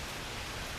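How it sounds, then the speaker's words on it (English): Rain falling outdoors in Michigan, a continuous even hiss with no breaks, heard faintly and alone. "It's still raining out here."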